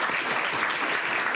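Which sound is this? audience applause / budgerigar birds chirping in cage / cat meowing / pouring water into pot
audience applause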